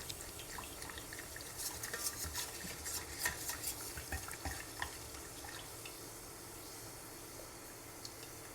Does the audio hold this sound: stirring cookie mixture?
yes